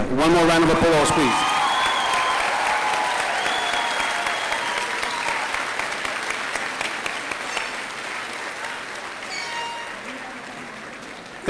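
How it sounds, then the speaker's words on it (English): Loud applause from a graduation ceremony crowd, starting strong after a brief voice and gradually fading over about eleven seconds, with scattered cheers and a few voices heard within it. "One more round of applause, please"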